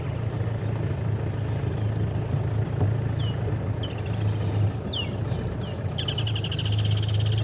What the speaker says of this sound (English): Good morning, kingfishers. I hear you.